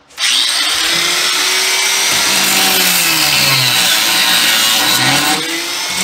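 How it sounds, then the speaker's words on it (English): A power tool cuts steadily through three pins on a 1940 Chevy coupe during a rack-and-pinion build, giving a loud, close, continuous whine whose pitch wavers and dips as the blade bites, with no talking. "I got 3 pins that are in my way. I got to cut them out first."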